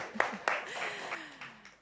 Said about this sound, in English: Let's do a huge round of applause